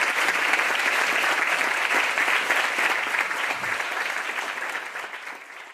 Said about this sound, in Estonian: teeme suure aplausi meie suurepärastele panelistidele